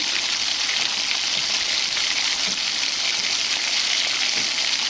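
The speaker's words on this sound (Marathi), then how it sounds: "लसूण लाल परतलेला आहे तर यानंतर आपण यामध्ये तांदूळ पिंजऱ्याची भाजी टाकत आहोत" Tandul kundra amaranth greens sizzle loudly as they hit hot garlic in a pan, a steady close frying hiss that runs unbroken throughout with faint stirring.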